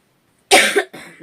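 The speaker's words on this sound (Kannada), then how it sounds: "ಜಾಸ್ತಿ ಕೆಮ್ಮು ಬರ್ತಾ ಇದೆ" A single sharp cough close to the mic, followed by a softer second burst, after a moment of silence.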